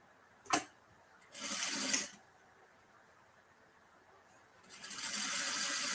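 Short bursts of a domestic sewing machine running on a shirt sleeve, a brief click followed by two whirring stretches of about a second each and longer, close and moderately loud with quiet gaps between.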